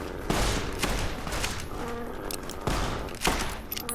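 Gunfire in the game Fallout: New Vegas, a few loud sharp bursts of shots spaced a couple of seconds apart, each followed by a short ringing tail over a low background.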